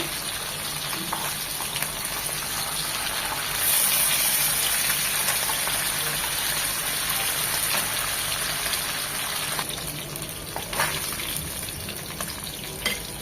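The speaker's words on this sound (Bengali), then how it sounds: "জাস্ট এটি টুকি 1 মিনিট করে ভেজে নেব, কড়া করে ভাজবো না।" Tengra fish fry in hot oil in a pan, giving a steady crackling sizzle throughout, briefly louder and sharper midway as pieces are moved.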